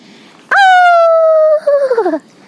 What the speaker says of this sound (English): that's the sound of wolf, a typical creepy night.